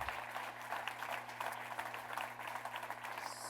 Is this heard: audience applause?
yes